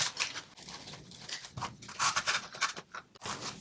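Scissors snip repeatedly through Dollar Tree paper napkins, a run of quick close crisp cuts with light rustling, no talk.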